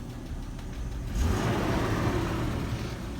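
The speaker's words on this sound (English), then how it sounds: "Engine sounds like shit." Car engine at a salvage yard, a rough-running motor idling and then revving up louder midway through, steady close mechanical drone with no voices.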